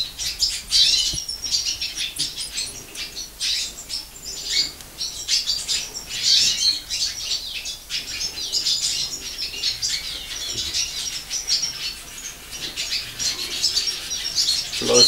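Siskins, including black siskins, at a breeder's aviary give bright, busy chirps and twitters in overlapping bursts throughout, with occasional squawks and wing flutters nearby.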